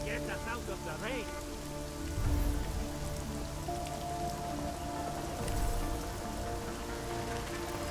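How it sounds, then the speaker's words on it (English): Steady rain patters in Deus Ex: Mankind Divided, a constant wash of drops under sustained musical tones, with a couple of low thuds rising briefly. "At least get us out of the rain."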